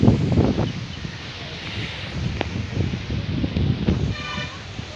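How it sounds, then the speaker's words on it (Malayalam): Strong wind gusts across an open sunflower field, a loud rumbling buffet on the microphone with rustling and a brief faint tone, while someone speaks. "ഇവിടെ ഭയങ്കര കാറ്റുണ്ട്."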